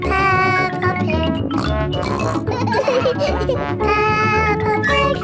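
Voiced imitations of pig oinks from the Peppa Pig cartoon family repeat in quick bursts, loud and close, layered over bright melodic background sound with childlike voices mixed in.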